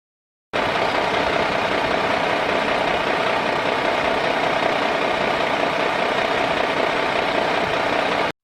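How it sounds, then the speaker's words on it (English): A truck engine runs at a steady idle, a dense, even rumble with a faint knocking texture, starting suddenly and holding at constant loudness throughout. "Now truck."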